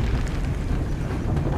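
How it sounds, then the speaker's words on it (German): A single deep, rumbling cannon blast from a tank firing at people in Assassin's Creed: Brotherhood, a heavy low boom that rolls on briefly without fading. "Schon ein bisschen arm, so mit einem Panzer auf Leute zu schießen"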